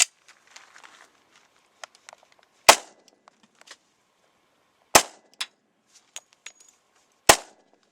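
Glock 30 handgun converted to 10 mm firing loud, sharp shots at a spaced, steady pace, roughly four heavy reports with lighter clinks and metallic clatter between them, outdoors and with no talking.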